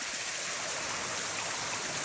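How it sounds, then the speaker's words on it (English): Steady, full-bodied rush of a waterfall in an Australian rainforest, a continuous broadband roar with no breaks, moderately loud and alone throughout. "We got to another waterfall."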